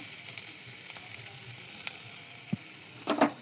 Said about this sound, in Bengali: তেল গরম হয়ে গেছে, রসুনটা দিয়ে দেব। দিয়ে দেবো আদা বাটা